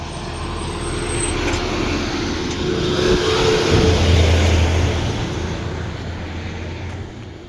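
A bus travels a road near a forest on a Cuttack–Bhubaneswar route, its engine rumbling and swelling loudly as it passes close by, then fading slightly, with steady road noise and no speech.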